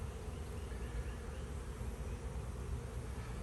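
A steady, low hum of honey bees buzzing close by on hive frames during an apiary inspection, continuous and fairly soft with no voices.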